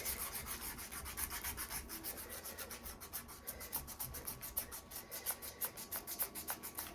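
Sandpaper rubs the outside of a firearm in quick back-and-forth strokes, giving a close, rhythmic scratching that repeats steadily and picks up pace toward the end.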